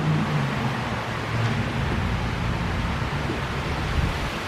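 A strong outdoor breeze buffets the microphone in a steady, loud broadband rush with gentle swells throughout, and no one speaks.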